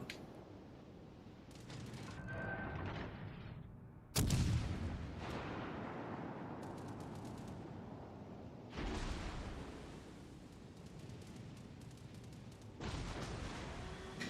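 Naval gunfire from battleship guns in World of Warships Legends, with shells fired around the Vanguard: a few heavy booming salvos several seconds apart, each followed by a rumbling tail, heard fairly faintly over low background noise.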